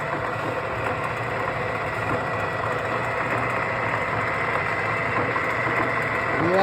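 A big gap bed lathe runs with its lead screw turning, giving a steady low mechanical hum and drone that stays even throughout at moderate loudness.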